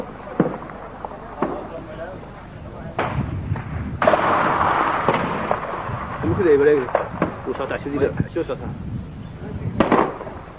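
Heavy weapons fire from an unfamiliar new type of weapon during the Garxejis battle: scattered sharp bangs and booming blasts, some close and loud, others distant, with a rumbling wash between them and voices murmuring in the background.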